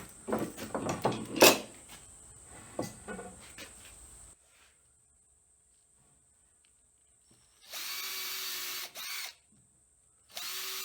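A power drill runs in short bursts while drilling pilot holes for butt joints in a garden kitchen-sink build, with a clunk and a pause before two longer, steady whirring runs, close and fairly quiet.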